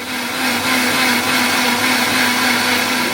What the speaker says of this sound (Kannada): ಒಂದು ರೌಂಡ್ ಇದನ್ನ ಹಾಗೆ ನಾವು ಮಿಕ್ಸಿಯಲ್ಲಿ ರುಬ್ಕೊಳ್ಳೋಣ